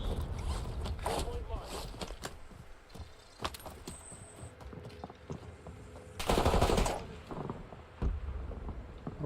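Battlefield 6 gameplay gunfire: rapid, layered bursts of shots at varying distances over continuous game ambience, with one heavier, louder burst midway and a voice talking throughout.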